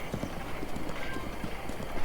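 Epona, the horse in Zelda: Breath of the Wild, gallops in a steady rhythmic clip-clop of hooves, close and clear, with no talking.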